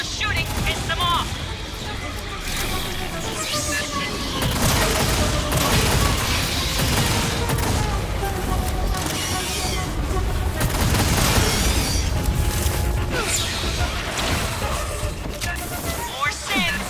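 Marines' weapons fire at xenos in Aliens: Fireteam Elite, producing a loud, sustained barrage of gunshots mixed with heavy booms that swells and rolls on throughout.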